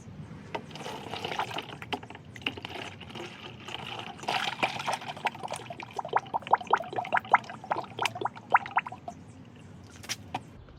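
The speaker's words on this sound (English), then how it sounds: "pour this oil right into that jug" Motor oil glugs and splashes in uneven bursts as it pours into a jug, close up and fairly quiet, with no talking.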